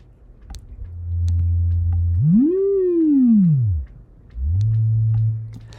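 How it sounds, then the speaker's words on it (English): A pure synthesized sine tone generated in Max's Gen from a phasor plays loud and clean, holding low, sweeping upward in a smooth arc and back down, cutting out briefly, then returning as a steady low hum. "So that's how you make a sine wave in Max."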